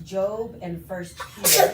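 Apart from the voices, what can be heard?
sneeze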